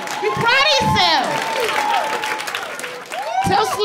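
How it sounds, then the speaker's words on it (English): Clapping and cheering from a stand-up comedy audience, loud and sustained crowd noise with shouts rising over it and a voice speaking on top. "clap, you can clap, you stop, clap!"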